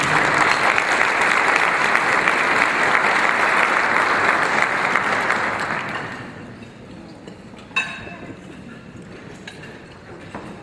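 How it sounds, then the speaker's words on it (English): Applause from a large audience at an interfaith leadership gratitude dinner, dense and loud for about six seconds, then thinning into scattered claps before fading out. "Another round of applause for Bob and Tom"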